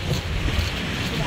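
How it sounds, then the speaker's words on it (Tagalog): Strong sea waves surge near a rocky shore in a deep, continuous roar, with heavy wind buffeting the microphone and a voice faintly audible underneath. "Sobrang lakas ng alon."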